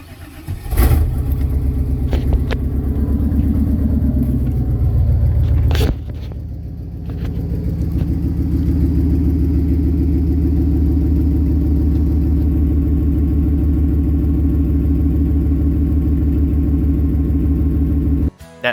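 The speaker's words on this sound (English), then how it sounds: "you get to listen to my 2:30 in the morning cold start with all of its power steering pump whining glory and no muffler" A Chevrolet 350 small-block V8 with no muffler idles after a cold start in the early morning, a loud, deep, lumpy rumble with a steady power-steering pump whine over it, broken by a brief dip before the idle settles again.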